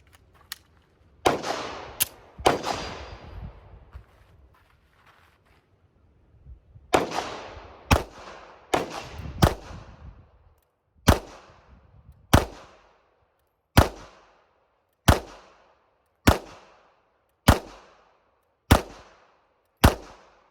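Ruger LCP Max pistol firing at a silhouette target: sharp close gunshots, a few uneven early shots then a steady run of evenly spaced cracks, each with a short decaying ring, no talk.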